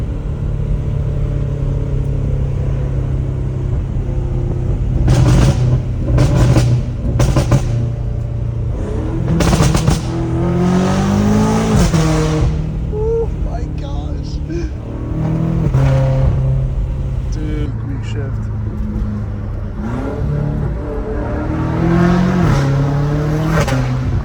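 A catless BMW M5 Competition engine revs hard and drops between gears on the street, its exhaust giving sharp crackles at each shift, loud and close.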